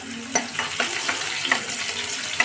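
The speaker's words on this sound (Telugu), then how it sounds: "ఉల్లిపాయ ముక్కలతో చిన్నగా తరిగి పెట్టుకున్నాం కదా, అవి అయితే వేసి వేయించుకోవాలి" Finely chopped onions frying in a hot pan for a chickpea curry, a continuous bright sizzle with repeated stirring scrapes at a steady rhythm, close and fairly loud.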